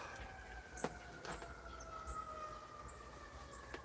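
Police and ambulance sirens wail faintly in the distance, a steady tonal drone with a few soft clicks and thumps nearby.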